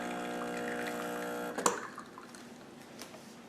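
A Breville BES870XL espresso machine pulls a single shot, a steady pump hum and stream of coffee that stops with a sharp click, followed by quiet drips and soft hiss.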